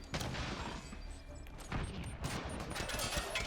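Gunfire from Vetra, a squadmate in Mass Effect Andromeda, crackling as a dense volley of repeated shots and bursts over busy game combat noise, with no talk.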